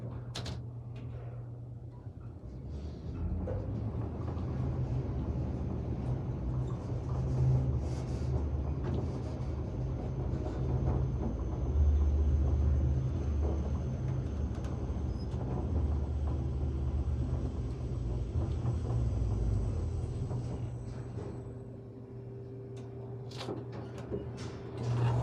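A continuous low mechanical rumble and hum of a worn Armor/Montgomery traction elevator car moving at the Crowne Plaza O'Hare, Rosemont, Illinois, steady throughout with faint rattles and a thin high whine.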